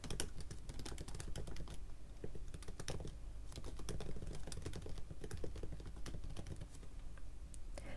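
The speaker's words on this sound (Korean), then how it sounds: "포트폴리오 제목이 될 페이지 제목을 입력합니다" Rapid clicking keystrokes on a computer keyboard while a page title is typed into Notion, close and clear, in uneven bursts with short pauses and no voices.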